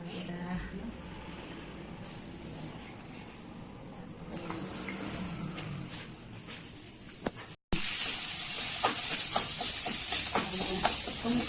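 Garlic and pepper hit hot oil in a wok and are stir-fried briefly, first as a quieter, busy sizzle with clinks, then as a sudden loud, hissing fry after a short break.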